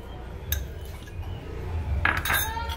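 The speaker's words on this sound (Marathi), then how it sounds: "आता ही परत भाजी आपण मिक्स करून घेऊया सगळं" A spoon mixes the bhogi vegetable dish in a metal pan, giving soft scraping stirs and a few bright clinks against the pan, close and fairly quiet, with no talk.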